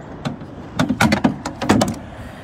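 Plastic clips and latches clack as the generator compartment door and cover are opened on a 2017 Winnebago Minnie Winnie 25B RV, a quick cluster of close, sharp knocks and rattles.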